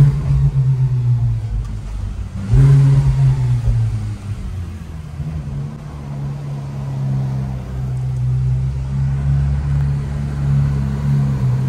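A Ferrari 599 GTB Alonso Edition V12 rumbles loud and close, with a sharp rev rising around the two-second mark before it settles back into a deep, steady idle.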